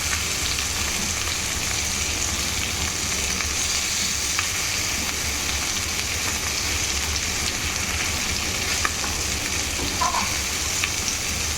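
Fish frying in a pan gives a steady, dense sizzle that holds at an even loudness from start to finish, with faint crackles and pops here and there and no voices.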